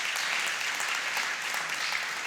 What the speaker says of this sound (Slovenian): seveda naš aplavz še enkrat tudi ne bo škodil